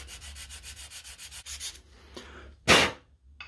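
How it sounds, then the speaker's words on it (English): Sandpaper worked by hand over a stamped steel axe head makes a rhythmic series of close, raspy back-and-forth strokes, then pauses, followed by one louder, harsher scrub. "we'll get some more sandpaper to it, see if we can't bring it up a bit"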